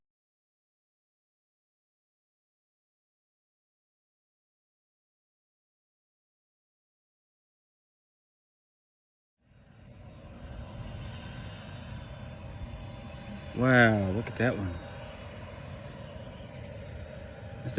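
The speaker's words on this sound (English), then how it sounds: "That's a big airplane." A big airplane passes overhead, its engine drone fading in from silence partway through and holding steady and fairly loud, while a voice briefly speaks over it.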